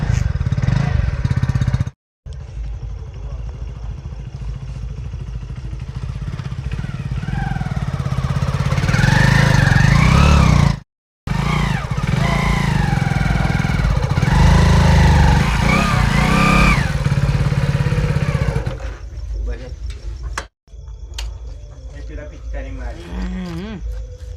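A motorcycle engine runs close by in a village, idling with a low rumble and rising as it revs up and down while people talk over it.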